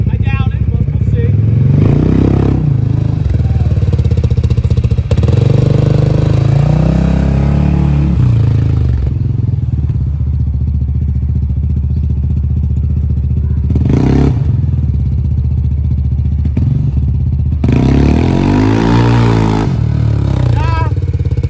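CFMOTO ZForce 500 side-by-side engine revving hard in a wheelie attempt, loud close engine roar with surges and clattering thumps, and a voice talking over parts of it.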